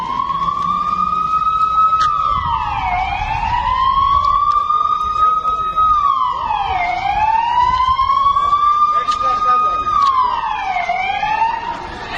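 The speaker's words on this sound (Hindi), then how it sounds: "सायरन्स लगातार एक्टिव हो गए।" A wailing air-raid siren in Israel, sounding during a Hezbollah drone attack, rises and falls in long, repeating sweeps, loud and continuous, with faint background noise beneath it.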